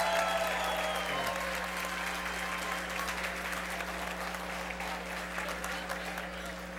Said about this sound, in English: Notice the Milken staff over here applauding the loudest.